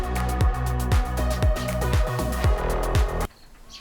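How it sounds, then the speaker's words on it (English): A big bee buzzes loudly and close, its drone rising and falling in repeated swoops as it circles near a car being prepped outdoors, then cuts off abruptly near the end. "Holy crap, there's a big bee!"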